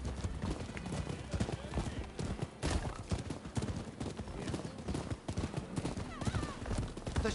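Horses gallop in a video game with steady rapid clip-clop hoofbeats over a continuous busy background, with people talking over them throughout.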